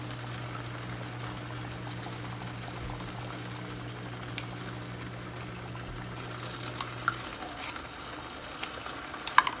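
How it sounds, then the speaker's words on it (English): Tomato sauce for chicken lasagne simmering in a pot as tomato paste is added, a soft steady bubbling and sizzle with a low hum that stops partway, then a few light utensil clicks. "So basically we're simmering our sauce now. In goes our tomato paste."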